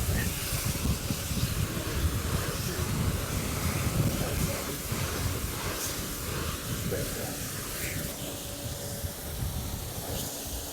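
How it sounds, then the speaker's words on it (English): Wind blowing hard across a microphone outdoors beside a Volkswagen Golf R32 Mk4, a constant low rumbling buffet with hiss that stays loud and steady throughout. "Oh, it's so windy."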